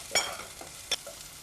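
Garlic, ginger and cumin dropped into hot oil in a pan, giving a short burst of sizzling and stirring that flares twice, close and fairly quiet, with no talk over it.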